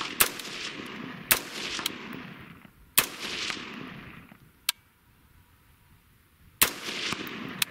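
A semi-automatic rifle fires single shots, loud sharp cracks spaced a second or more apart with rumbling echoes after each and a brief quiet gap before the last few shots.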